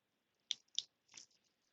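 Supports snapping off a resin 3D-printed miniature elephant before washing: three quick, soft, crisp cracks spaced about a third of a second apart, close and quiet, with no talking.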